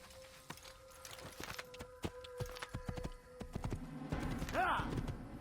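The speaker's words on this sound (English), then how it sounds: "Ah, my horse." Horse hooves clip-clop in Assassin's Creed, a quick run of close, sharp thuds in uneven rhythm, with a brief whinny near the end and someone talking over part of it.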